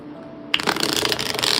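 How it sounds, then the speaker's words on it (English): Tarot cards being shuffled by hand, a quiet lull giving way to a dense, continuous riffling flutter for about a second, close and clear with no talk. "And you guys see me shuffling. Let me shuffle one more time."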